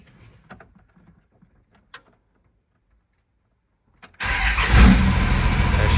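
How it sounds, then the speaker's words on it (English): A few faint clicks and rustles in a quiet cab, then a tuned second-generation Cummins diesel pickup engine cranks and roars to life, settling into a loud, steady idle. "So let's hop in the truck, fire her up."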